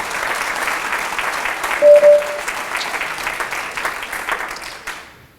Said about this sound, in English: When people give a round of applause for Liz Dodge, he doesn't even want to stand